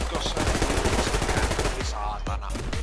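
Rapid bursts of gunfire in the multiplayer shooter Survarium, loud and continuous, with players talking over the shots.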